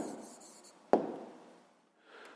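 A pen scratches briefly on paper, writing down a math answer, with a sharp tap at the start and a soft scrape trailing off, quiet and close with no voice.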